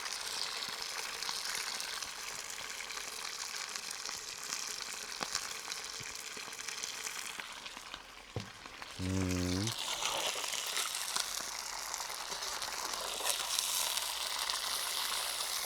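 Meat frying in hot oil inside a kazan for plov, a steady close sizzle and crackle running throughout, with a brief tonal clatter midway; no one speaks.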